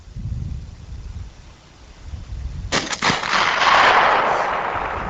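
A Barrett .50 caliber rifle fires at a 3/4-inch-thick pane of bullet-resistant glass outdoors, a sharp loud crack about midway followed by a rolling echo and wind noise, with no talk.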